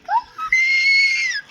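A child's high, wavering voice imitates an elephant's trumpeting call: a short rising squeal, a brief pause, then a long sustained shrill cry that fades out, loud and close.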